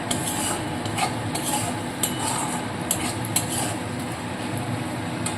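A spoon scrapes and clinks in a pan as chopped raisins are stirred into a spiced potato mixture, with soft sizzling beneath the irregular metallic taps, close and fairly quiet.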